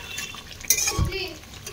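Mutton being sautéed and stirred in a pan in a home kitchen, with a brief metal scrape and clink of the spoon against the pan over a faint sizzle.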